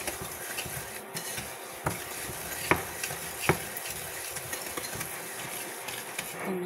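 Sugar and cocoa being mixed with cooking oil for chocolate crinkles, soft continuous scraping and stirring in a bowl with a few sharp clicks of a utensil, close and quiet, no talking.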